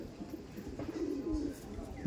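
Pigeons kept by a long-time fancier, including a red jira pair, give a soft, low cooing that swells toward the middle and end of the moment, close by against a faint background murmur.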